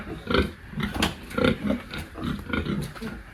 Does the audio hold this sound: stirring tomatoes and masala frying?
no